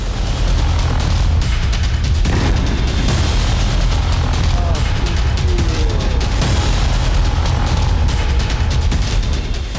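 Explosions and booming blasts in Kyiv during the Russia–Ukraine war, a loud, dense wall of rumbling detonations and crackling bursts that runs without a break, with repeated heavy impacts.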